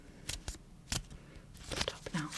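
Tarot cards being shuffled close up at a quiet level, with several sharp riffling bursts, short slaps, and a longer rustling flurry toward the end.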